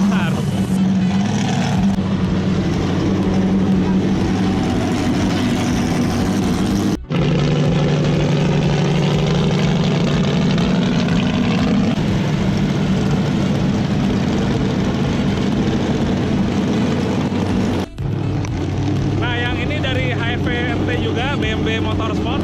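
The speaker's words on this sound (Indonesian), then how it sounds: "Ini mobilnya pakai mesin Cherokee tapi udah diganti, udah di upgrade menggunakan Superstar." An offroad tubular FFA speed car with an upgraded eight-cylinder engine roars loudly and continuously nearby, briefly cutting out twice, while someone talks over the noise.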